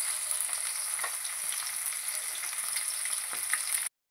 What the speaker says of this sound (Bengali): এই দেখো, মাছগুলো দিয়ে দিয়েছি তেলের মধ্যে। চলো ভেজে নিই